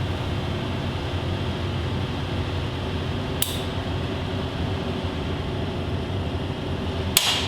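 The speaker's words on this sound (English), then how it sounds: "Let's see if we can get this Allen bolt broke free" An Allen bolt on a Grizzly 600 engine breaking free during cylinder removal, two sharp isolated metallic cracks a few seconds apart over a steady background hum, no talking.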